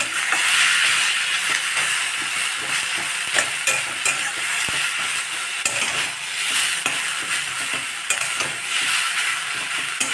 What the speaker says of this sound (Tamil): அந்த முளைக்கட்டான் கீரோட ஜூஸ் எல்லாம் இறங்குற அளவுக்கு நல்லா வதக்கிடலாம்